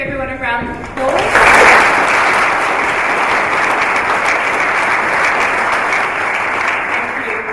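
A voice is heard briefly at the start before an awards-ceremony audience breaks into steady, dense applause that holds at full strength to the end.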